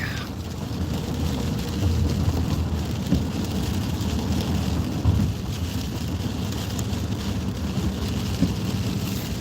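Steady rain falls outdoors in Kentucky near a river, a constant close hiss with some wind buffeting the microphone, no voices.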